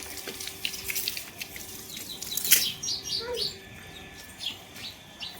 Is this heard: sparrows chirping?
yes